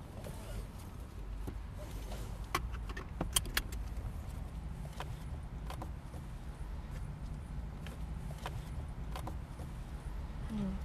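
Keys jangle in short metallic bursts while someone rummages through a car before a drive, steady low engine or road rumble underneath and occasional sharp clicks.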